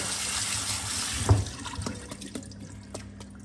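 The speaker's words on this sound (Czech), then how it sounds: "Cibuli propláchnu takhle studenou vodou" Cold tap water running over chopped onion in a kitchen sink, a steady rush that is cut off with a clunk and leaves faint drips and handling sounds.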